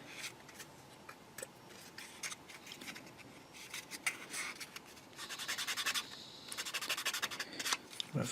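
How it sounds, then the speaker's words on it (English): Plastic parts of a 1/35 scale Takom Chieftain Mk10 tank model are rubbed firmly by hand, giving quiet scratchy strokes in irregular bursts that grow denser and more rapid toward the end, close and faint. "Bit of a firmer rub."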